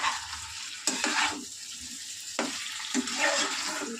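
Eggs frying and being stirred in a pan with a steady broadband sizzle, punctuated by sharper scraping stirs near the start and middle, close and fairly loud with no voices.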